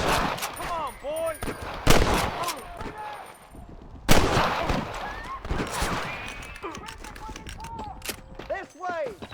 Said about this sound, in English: I've given you enough chances to walk away! Good shooting, boy!